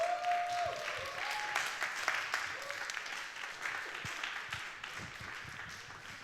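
A congregation at a church youth service claps warmly and continuously as a bride and groom come forward, a broad, even wash of applause with a few voices calling out faintly over it.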